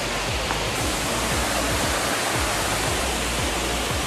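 Steady, loud broadband roar of a waterfall heard from the top on a hiking trail, filling the whole stretch with continuous rushing water and no voices.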